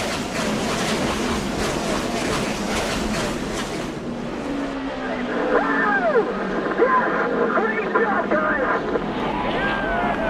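Race car doing burnouts at Martinsville in a racing video game: a loud, dense engine roar that drops away after a few seconds, leaving a softer rumble threaded with rising and falling tire squeals.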